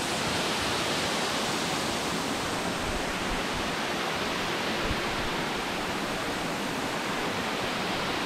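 Balagbag Falls in Quezon roars as a steady, dense rush of falling water, loud and unbroken from start to finish.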